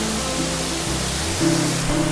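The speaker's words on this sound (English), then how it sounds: "More waterfalls." A waterfall at Koh Samui, Thailand, pours as a steady broadband rush at moderate distance, with faint low tonal hums drifting beneath the constant roar.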